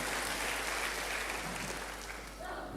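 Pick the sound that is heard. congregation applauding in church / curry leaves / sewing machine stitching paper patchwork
congregation applauding in church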